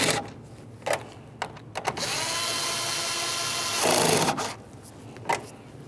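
Power driver running two 8 mm mounting nuts tight on a rear bumper cover of a 2012-2018 Nissan Altima, with short clicks and bursts and then a long steady whirring spin, close and loud.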